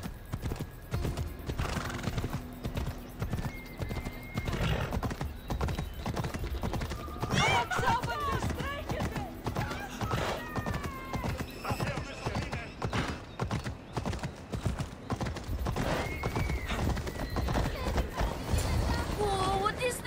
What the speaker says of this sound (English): He's a special horse and belongs to Hades.